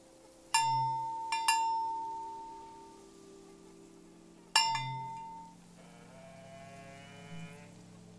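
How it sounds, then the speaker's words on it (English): Cow's bell in the video game Season, clinking in three bright metallic strikes that ring out and slowly fade, the first two close together and the third after a pause, with a soft hum beneath. "The sound of this bell has a lot of character."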